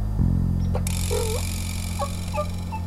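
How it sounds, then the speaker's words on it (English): Soft, distant calls of wild turkey hens, a few short yelps and clucks from across a ridge in Oklahoma, scattered over a steady low hum of background noise. "We could hear a few hens just across the ridge there, so we knew there were turkey in the area."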